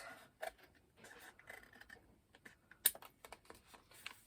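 Scissors cutting through paper ephemera for a handmade mermaid fairy journal, a series of quiet, close snips and crisp paper rustles spaced irregularly, with one sharper click partway through.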